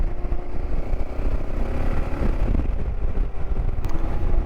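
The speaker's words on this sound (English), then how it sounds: "after a day of not riding it feels so good to fire up the bike again" A motorcycle engine running steadily in an outdoor setting, a constant low rumbling drone with wind buffeting the microphone and no distinct start-up visible.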